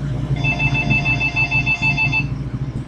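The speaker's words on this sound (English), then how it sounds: "The phone's ringing every time." A telephone rings in a house, two electronic ring bursts with a short gap between them, clear and close, no voices.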